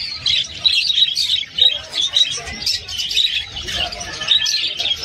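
Hagoromo parakeets at a pet market give a steady stream of bright, chirpy tweets and occasional squawks, fairly close, with faint background murmur underneath.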